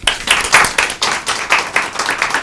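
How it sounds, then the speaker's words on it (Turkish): A TV studio audience claps together in a strong, regular rhythm, each round of claps landing loud and crisp at an even pace, with no voices heard. "Tayyip Hocama bir alkış"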